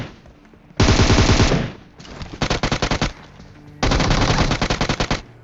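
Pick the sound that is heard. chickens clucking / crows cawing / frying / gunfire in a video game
gunfire in a video game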